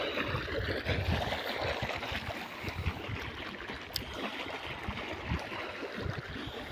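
Steady rushing canal irrigation water flows continuously into a wheat field with a broad turbulent wash and low gurgling, close by, with no voices.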